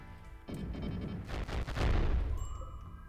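Las cannons fire in the video game Rimworld, a burst of loud, close booming shots, then a high electronic tone and a low hum as the volley fades.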